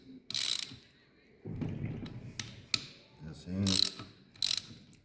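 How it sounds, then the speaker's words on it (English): Ratchet turning a 17 mm socket on a Nissan 1400 engine in a workshop, heard as a few bursts of close, loud clicking strokes separated by short pauses, with mechanical knocks between them. "Ratchet, turn."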